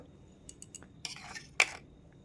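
Two metal spoons picked up in a home kitchen, a few light tinkling clinks followed by a brighter clatter, close and quiet with no talking.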